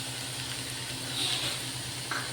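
Peanuts, chopped onion, ginger, green chilli and curry leaves frying in a pan for aloo poha, a continuous close sizzle with a faint hiss swelling briefly and a low steady hum beneath.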